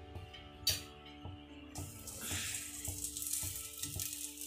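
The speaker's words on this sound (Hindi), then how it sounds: "अब हम इसे तवे पे डाल देंगे।" Bread pizza laid on a hot tawa gives a soft, steady sizzle that rises partway through, heard alongside a faint rhythmic ticking and hum in a quiet kitchen.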